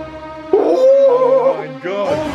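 A pet dog makes a short run of yips and whimpering whines, close and fairly loud, with the squeaky tones rising and falling over a couple of seconds and a lower note underneath.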